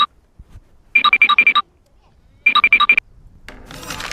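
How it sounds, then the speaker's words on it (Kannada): A mobile phone ringtone sounds in two quick bursts of bright, repeated electronic beeps separated by a pause, close and clear, followed by faint rustling noise. "ಎಲ್ಲ ಅವನು ಫೋನ್ ಬತ್ತಲ್ಲ ಯಾರು"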